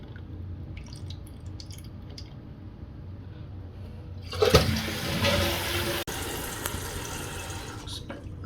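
A toilet flushes with a sudden loud rush, then the tank refills through a newly installed fill valve with a steady hiss of running water and a few drips, heard alone.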